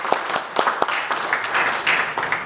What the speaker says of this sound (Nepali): आउनुहोस् क्रिसेसुलाई ठुलो ताली बजाएर